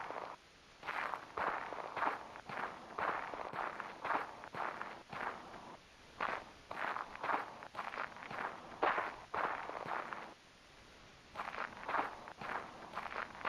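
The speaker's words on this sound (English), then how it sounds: "I don't know if you guys can hear the footsteps or not." Footstep sound effects from a game jam video game: a rhythmic run of soft, quick steps in clustered bursts with brief pauses, fairly faint and heard alone.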